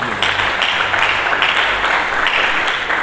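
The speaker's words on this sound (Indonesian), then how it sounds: "Mari kita berikan tepuk tangan." Church congregation clapping during a Sunday sermon, a steady, dense wash of applause that holds loud and even for the whole stretch.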